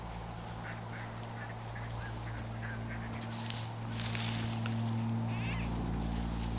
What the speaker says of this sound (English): Sounds like ducks or geese.